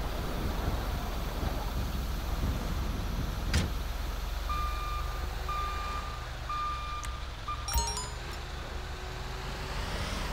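Truck reversing beeps in the video game GTA, a series of evenly spaced electronic beeps over a constant rumbling ambience of engine and wind-like noise, moderately loud with no talk.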